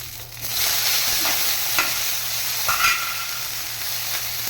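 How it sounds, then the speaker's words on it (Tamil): Garlic, chillies, onion and tomato sautéing together in a pan for wheat flour kali, with a loud close sizzle, a few spatula scrapes and clinks over a continuous frying hiss. "தக்காளி இதெல்லாம் ஒன்றா போய் போட்டு வதக்கிக்கலாம்"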